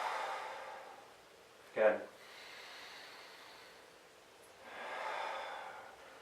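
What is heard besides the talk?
breathing in and exhaling during a mobility exercise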